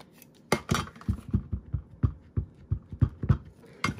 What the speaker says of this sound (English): keep banging the camera